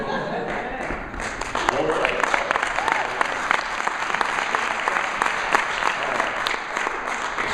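Sustained, dense audience applause at a senior comedy tour show, steady and loud for several seconds with a brief swell after the first second.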